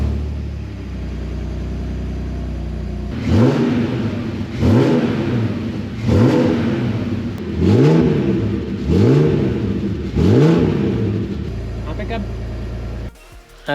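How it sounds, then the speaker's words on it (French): A BMW 328 Ci engine starts and is revved five times in a steady rhythm, each rev rising and falling, loud and close, with a low idle before and after. "on va quand même faire un petit démarrage juste pour le plaisir et s'assurer que tout va bien"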